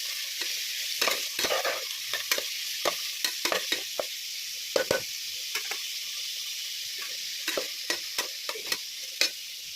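Tomatoes sizzle in a pan under a steady frying hiss, with frequent sharp clicks and scrapes of stirring scattered throughout, close and moderately loud.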